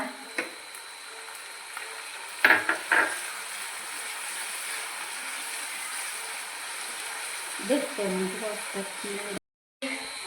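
Green chillies and washed curry leaves dropped into hot oil for Kerala beef pickle, a steady faint sizzle with a few sharper crackling bursts and utensil clinks, under a quiet voice.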